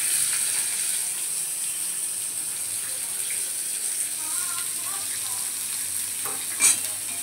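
Chopped onion fries in a hot wok alongside nigella seeds, dry red chilli and bay leaf, giving a steady close sizzle with occasional stirring clinks and one sharp knock near the end.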